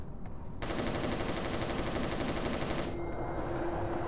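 Rapid automatic gunfire from the shooter game Resistance: Retribution, a dense, loud continuous burst lasting over two seconds before cutting off to a lingering hum.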